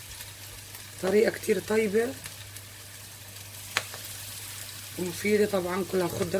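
Palestinian-style cauliflower and vegetable omelette fritters, made with baking powder, frying in hot oil give a soft continuous sizzle that runs beneath a voice talking in bursts.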